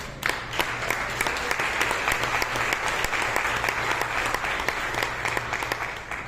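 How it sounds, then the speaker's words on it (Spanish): Sustained applause from a church congregation during a worship service at Iglesia El Divino Redentor, dense steady clapping filling the room at even loudness for several seconds with no voices over it. "¿Por qué no le damos aplausos al Señor?"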